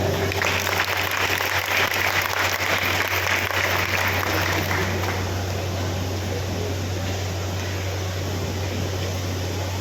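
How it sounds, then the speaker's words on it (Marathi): A seminar audience claps loudly and steadily for several seconds, then the applause thins slightly toward the end, with a constant low hum underneath. "जोरदार टाळ्या"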